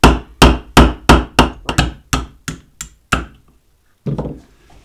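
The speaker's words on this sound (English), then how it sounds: "Now we're going to take a 1/16 inch roll pin punch and drive this pin." Sharp metallic hammer blows drive a 1/16 inch roll pin punch against a pin to remove the firing pin of a Dan Wesson Model 15-2 revolver, about a dozen close, loud strikes in a steady rhythm, then a brief pause and faint handling noise.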